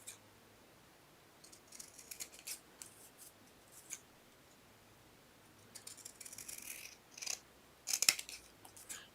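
Scissors trimming a paper stamped card panel to its border, several bursts of crisp close snipping separated by quiet pauses, faint overall with no speech.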